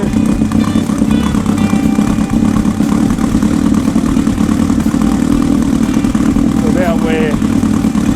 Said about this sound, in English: I'm just going to lift the idle up a little bit.